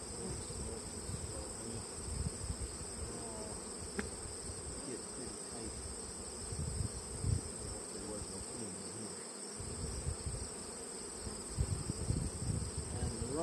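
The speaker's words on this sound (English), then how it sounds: "The bees are getting wild." Honey bees swarm around an open hive on a warm day as robbing begins, a steady dense buzz, fairly quiet and continuous, with a constant high insect whine and no talk.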